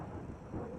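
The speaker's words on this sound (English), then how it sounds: "Thunder rumbled." Low thunder rumbling in the video game Monsters of Little Haven, a soft, muffled, rolling boom under faint rain-like hiss, brief and distant.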